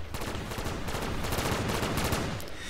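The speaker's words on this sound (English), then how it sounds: "we're gonna use the Pack-a-Punched AN94" A Pack-a-Punched AN94 rifle fires in a video game, a steady stream of rapid, sharp shots crackling evenly for several seconds at close range with no talking.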